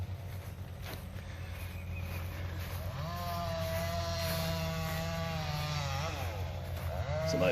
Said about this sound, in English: Somebody busting some chainsaws.